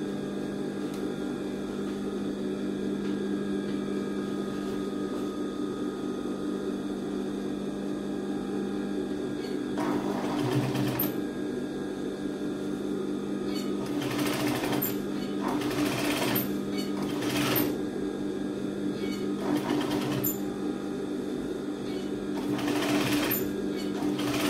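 A sewing machine stitching a thick seam on children's trousers, with a steady motor hum throughout and several louder bursts of rapid needle stitching, close by.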